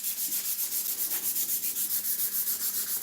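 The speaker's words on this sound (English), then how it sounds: "I could probably sand it up a little bit." Steady hand sanding across a wooden top coated in chalky matte paint, rapid regular back-and-forth rubbing strokes, close and continuous with no talking.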